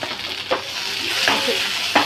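Masala for taro (arbi) stirred with a spoon in a pan over a high flame: a close, continuous sizzle with several distinct spoon scrapes through the short stretch.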